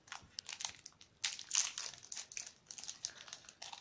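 Plastic wrapper of a Kinder Happy Hippo snack being torn open, a close series of crisp crinkling and crackling bursts with short pauses, loudest mid-way, with no voices over it.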